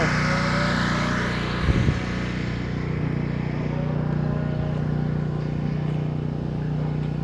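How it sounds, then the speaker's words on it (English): A skid loader's engine drones steadily nearby as it is driven over, with a brief low thump early on and an otherwise even, unbroken rumble, no talk. "I'm going to pull the skid loader over here so we can get that soaking a while too."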